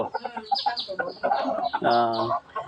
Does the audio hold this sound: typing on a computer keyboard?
no